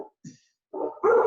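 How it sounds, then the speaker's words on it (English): Several sharp dog barks in short bursts, the last ones louder and closer, with brief quiet gaps between them. "sorry about the dogs, if you guys hear them."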